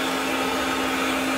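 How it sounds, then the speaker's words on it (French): A hair dryer runs in a small room beside a little sink, giving a continuous close, loud blowing whir with a steady motor hum and no break. "Oh, le sèche-cheveux."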